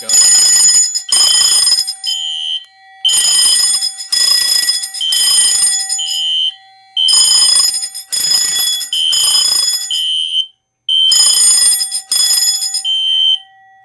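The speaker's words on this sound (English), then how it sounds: "there is definitely something wrong with the smoke detector" A malfunctioning smoke detector sounds off loudly and up close, shrieking in repeated groups of piercing beeps separated by short pauses, with no talking.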